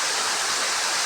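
A river stream pours over the falls into pools in Mati City. The water makes a dense, steady roar that is loud and close, with no talking and no break in the sound.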